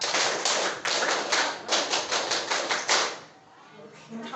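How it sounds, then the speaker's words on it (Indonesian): A group of standing teachers performs the Indonesian scout clap (tepuk pramuka), a brisk, patterned run of tightly grouped claps that stops abruptly near the end, leaving a quieter room. "1 kali tepuk pramuka."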